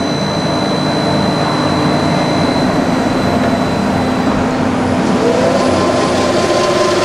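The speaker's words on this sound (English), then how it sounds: "I told you it's a 50 horsepower motor, AC variable speed. It just sings." A Cincinnati Model 750 horizontal milling machine with a 50 hp AC variable-speed spindle motor runs loud and close, a steady continuous drone with a sustained whine throughout, no talk.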